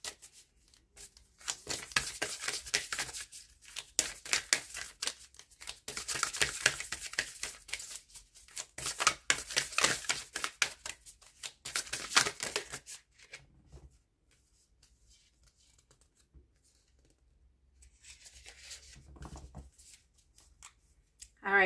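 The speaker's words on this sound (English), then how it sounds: "I'm probably just going to shuffle it for a little bit and split the deck" An oracle card deck is shuffled by hand in repeated crisp, riffling bursts for about thirteen seconds, close and fairly loud, before trailing off into near quiet with a few light handling sounds.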